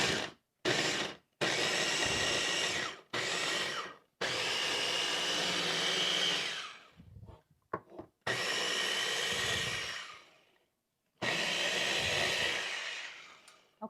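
Food processor chopping cauliflower into coarse rice, loud grinding whir in repeated pulses of varying length separated by short silences, close up, no talking.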